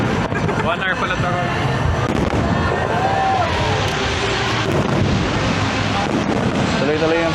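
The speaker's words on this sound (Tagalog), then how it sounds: "Tuloy-tuloy yung fireworks." New Year's countdown fireworks over the Mall of Asia in Manila, a continuous barrage of booms and crackles echoing through a noisy outdoor crowd, with people talking nearby.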